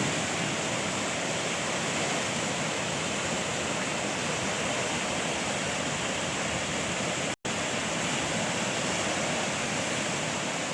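Loud, steady rushing of a storm-swollen river in Monte Patria, Coquimbo, a dense continuous roar close by with one brief dropout near the end.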